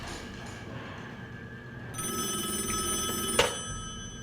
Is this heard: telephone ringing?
yes